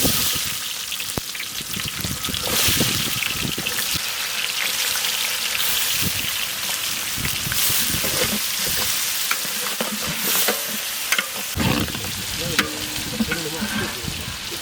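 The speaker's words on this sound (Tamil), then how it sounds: "இப்போ நம்ம பிரியாணிக்கு தேவையான ஆனியன் போடுறோம்." Onions fry in oil in a pot for a rabbit biryani cooked outdoors in a village, a loud continuous sizzle with crackles and frequent stirring scrapes throughout.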